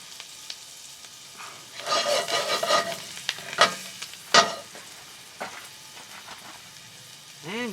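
Celery sizzling and being stirred in a Dutch oven at a campsite, bursts of crackling frying with scraping stirs, close and fairly loud, then quieter sizzle.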